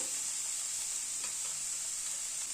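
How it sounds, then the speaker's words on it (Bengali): Banana flower frying in a pan is stirred, giving a steady close sizzle with a few faint scraping touches and no talk. "মোচাটাকে একটু নেড়ে চেড়ে দিলাম।"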